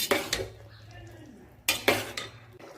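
Boiled vegetables and paneer are stirred into tomato gravy in a pot for veg biryani. A spoon scrapes and clinks against the metal in two short bursts with quiet gaps between them, and no one speaks.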